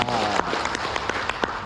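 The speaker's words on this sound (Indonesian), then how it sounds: "Tepuk tangan untuk kita semua" An audience claps at a morning gathering, a close, uneven patter of hands with a few sharp individual claps standing out, while voices carry over it.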